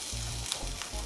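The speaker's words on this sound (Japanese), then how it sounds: "スペアリブをさっと表面炒めて香ばしさ出していきます。" Spare ribs sizzle and crackle loudly as they sear in a hot pot, a dense, steady frying hiss heard up close.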